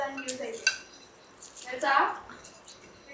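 Large cooking pots clank and clink as they are handled, sharp metallic knocks and a rattling scrape, with a person talking over the noise.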